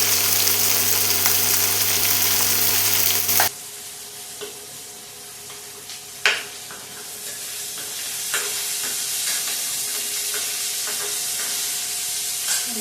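Onion and tomato sautéing with a little salt in a pan, a steady close sizzle with occasional stirring clinks and scrapes; a louder burst opens the sequence before settling into quieter, continuous frying.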